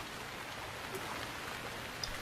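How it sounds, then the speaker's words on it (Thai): Rain falls steadily in the survival video game Stranded Deep, a soft, even hiss with a few faint drop ticks and no voices. "โอ้ฝนตกอ่ะ"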